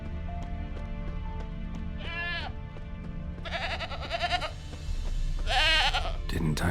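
A goat bleats in The Witcher 3 video game, several wavering bleats close by rising over ambient game music, the last ones louder, with a voice speaking briefly near the start.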